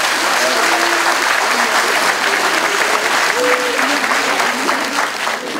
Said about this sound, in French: Nous sommes entourés du conseil municipal des jeunes que vous pouvez applaudir